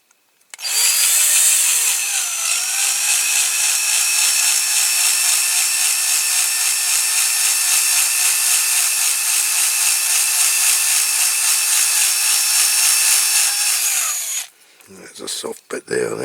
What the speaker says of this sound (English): This drill's getting a little bit blunt now, so I'm pushing quite hard.